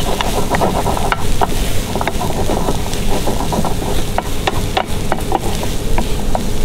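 Chopped lemongrass and ginger frying in a pan, being stirred so they don't catch: a dense, loud sizzle with frequent sharp clicks and scrapes of the utensil, close by, no voices.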